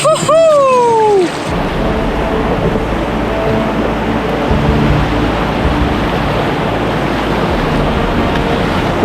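Whitewater river rapids rush and splash steadily around a paddled boat on a wilderness trip in Patagonia, a loud continuous roar with a brief whoop over it at the start.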